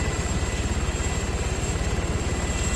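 Arma 3 helicopter spinning out of control after its tail rotor is shot away, a loud, steady rotor thump with fast rhythmic beating and a constant engine whine filling the whole stretch.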